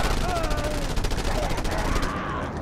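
Sustained automatic gunfire in Just Cause 2, a dense rattle of rapid shots running throughout, loud and close, with a voice talking over it.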